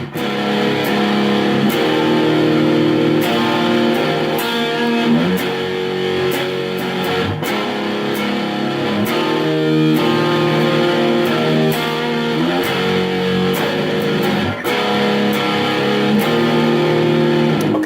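Distorted electric guitar plays a riff with string bends and pull-offs, a loud, dense and sustained tone ringing continuously with repeated picked attacks throughout.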